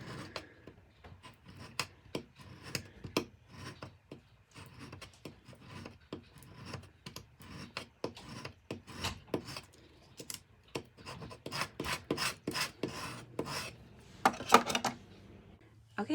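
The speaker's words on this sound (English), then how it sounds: "I've just squeegeed both sides of my clear. Make sure it's nice and attached." A squeegee rubs clear vinyl onto transfer tape in a series of short, close scraping strokes, some quick and some longer, in an otherwise quiet room.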